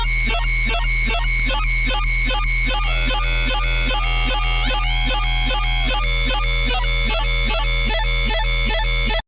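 A loud, dense bass synth preset built from two layered basses in the Bass Forge instrument, playing a steady rhythmic pattern of repeated notes with shifting pitch glides and gritty harmonics, alone without voices.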